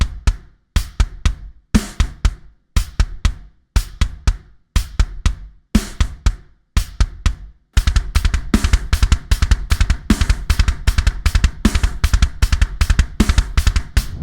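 Drums play a steady groove, sparse hits at first then a dense, driving pattern with rapid double kick drum strokes, loud and close, no voices.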